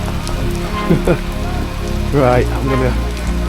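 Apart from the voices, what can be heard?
rain falling in Manchester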